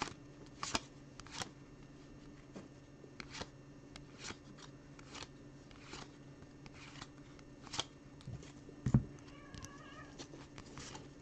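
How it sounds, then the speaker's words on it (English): Two young cats, a brother and sister, fight with a few short meows and caterwauls heard at a distance, mixed with frequent sharp card-handling snips and shuffles close by. "You hear my little cats starting to fight down there."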